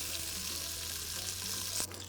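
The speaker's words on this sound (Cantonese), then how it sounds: "咁先煎啲雞肉啦。" Chicken pieces pan-frying while being browned for a seafood paella-style rice dish, a steady close sizzle filling the clip with a brief louder crackle near the end.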